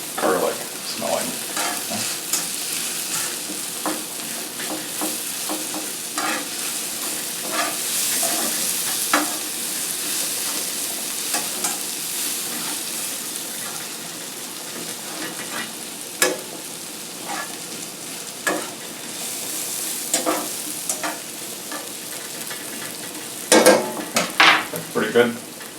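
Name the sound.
garlic cooking in a pan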